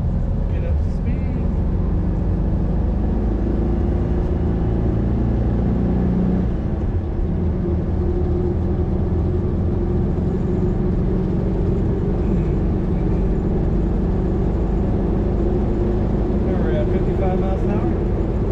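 A 1966 Volkswagen Beetle accelerates up to speed, its low engine drone rumbling steadily with wind and road noise throughout, while a faint voice may be present in the background.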